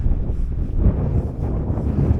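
Strong wind at a trout-fishing spot near Slavske buffets the microphone with a constant low roar and rumble, steady and loud throughout, with no voices.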